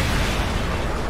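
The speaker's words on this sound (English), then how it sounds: "Friendly Predator missile inbound." A Predator missile strike explodes in Call of Duty Modern Warfare 3, a loud, dense, rumbling blast filling the whole moment without speech.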